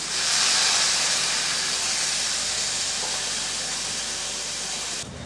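A quarter cup of water poured into a hot pan of sautéed onion, tomato and turmeric bursts into a loud, broad steaming hiss that slowly eases, then drops abruptly near the end.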